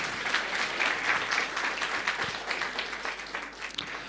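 An audience in a Sunday church service gives loud, sustained applause to a singing group, a dense crowd of clapping hands close by that continues without a break.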